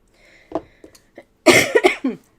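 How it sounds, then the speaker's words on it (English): A person with asthma coughs close by: a few small throat sounds, then a loud cluster of harsh coughs in quick succession. "Having a cough."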